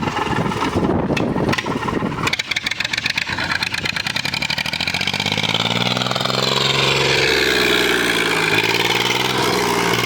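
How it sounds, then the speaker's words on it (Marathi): A motorcycle with its silencer removed, revving loudly up close: sharp throttle blips at first, then a sustained raw, rising and falling exhaust roar, with no talk. "काय एक्झॉस्ट आवाज आहे बघा नुसतं."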